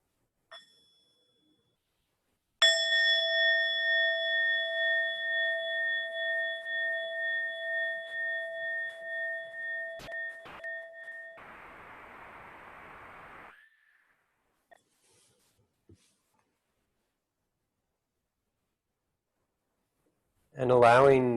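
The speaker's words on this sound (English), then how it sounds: "we'll have one sound of the bell just to help get settled." A meditation bell is struck once, ringing out clearly with a long sustained tone that slowly fades away. A soft rustle follows, and a voice begins speaking at the end.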